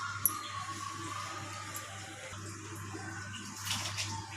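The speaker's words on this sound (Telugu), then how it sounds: "మనం నీళ్ళు పోసి బాగా కలుపుకుంటామండి." Water is poured and stirred into gram flour batter with turmeric and salt, giving a soft continuous splashing and sloshing, fairly quiet with a steady low hum underneath and no talking.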